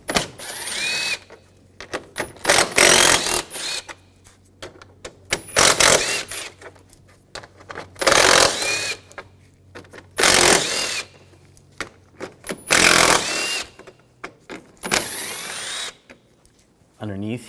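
Bumper bolts being driven out with a 10mm socket on a 2013-2019 Ford Escape, heard as repeated bursts of a power ratchet or drill whirring, each a second or two long, separated by pauses and mixed with handling noise and talk.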